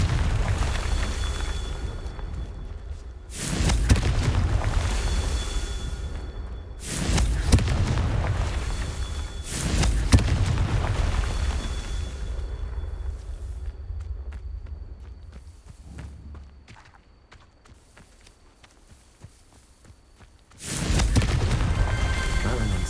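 Spell-blast explosions in Hogwarts Legacy burst out as loud, booming eruptions in several separate bursts, each with a broad rumbling decay, and a quieter lull before a final blast.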